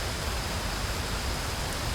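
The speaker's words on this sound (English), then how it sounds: "Perpetual rain." Steady rain in the sci-fi adventure game Gemini Rue, a dense, even hiss of falling water with no breaks, loud and close, no other sounds.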